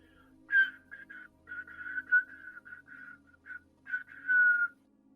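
A person imitates a slight whistling sound, producing a series of short, clear whistle-like notes in irregular bursts, quiet and close.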